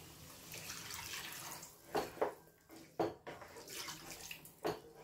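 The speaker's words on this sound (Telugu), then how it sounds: "మనం ముక్కలు మునిగేంత వరకు వాటర్ పోసుకుందామండి" Water is poured over mutton pieces in a metal pot in a few short splashing gushes, close and quiet, with pauses between pours.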